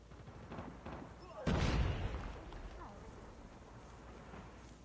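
A grenade explosion bursts out in the Call of Duty Mobile video game, a loud broadband blast that decays over a second amid a steady background rumble of battle and scattered gunfire.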